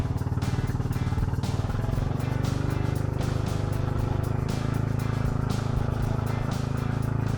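A boat engine drones loud and steady on the sea near Siargao in the Philippines, a constant rumbling, clattering motor noise with no pauses.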